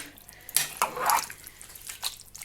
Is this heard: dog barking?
no